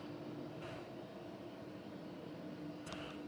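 Jet airliner departing Dallas/Fort Worth Airport for Madrid at night, a steady distant engine roar that holds even throughout, with no voices.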